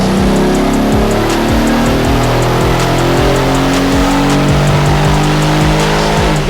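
A Brabus-tuned Mercedes E63 AMG with a twin-turbo V8 revs hard on a dyno, its loud engine note climbing repeatedly through the gears in rising sweeps, very close and with no voices.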